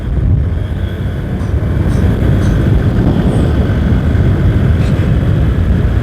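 A Honda Vario 125 scooter with around 1,000 km on it, revved while parked: a loud, continuous engine roar with a buzzing, rattling vibration, close to the microphone and without talk.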